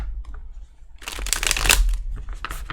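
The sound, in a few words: shuffling a deck of cards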